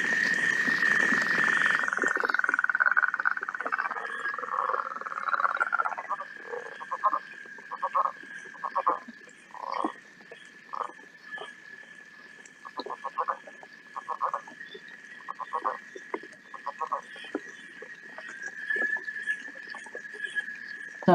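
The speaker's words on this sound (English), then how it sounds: "they have the weirdest call. It's kind of like a snore. So I'll play that one for you." Recorded frog call played back during frog and toad survey training, a long run of short, rasping snore-like pulses repeating at a steady rhythm, fairly clear over a quiet background after an opening burst of noise.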